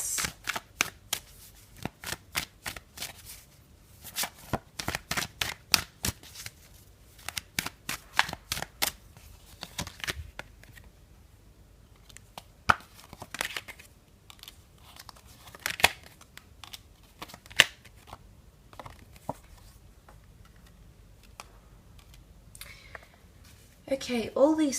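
Tarot cards shuffled by hand in quick bursts of riffling and bridging snaps, close and crisp, with pauses between rounds and a brief voice at the very end.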